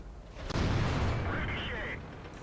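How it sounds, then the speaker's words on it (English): Artillery shells land with a sharp crack and a rolling boom, then a rumbling tail and a faint whistle in a World of Tanks battle around an IS-8 Tier 9 heavy tank, with someone talking over it. "Oh, here comes artillery."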